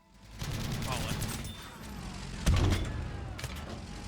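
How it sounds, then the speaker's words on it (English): Battlefield game audio of a house being destroyed, with rumbling collapse, falling debris and crunching impacts peaking in one heavy crash midway, over a low steady background din. "I'm hitting him with falling debris from the house"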